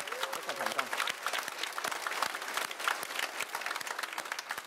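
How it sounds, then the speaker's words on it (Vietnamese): A big round of applause for Thiên Mẫu school at a closing ceremony for catechism and Vietnamese-language classes: dense, sustained clapping from an audience, with a voice briefly heard at the start. "Vậy một lần nữa một tràng pháo tay thật lớn cho trường Thiên Mẫu của mình nha."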